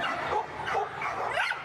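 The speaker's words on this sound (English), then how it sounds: "Typically you'll see border collies, but there's also other breeds of herding dogs." Herding dog at the Agribition show giving several short yips and barks in quick succession, close and fairly loud, with faint crowd noise behind.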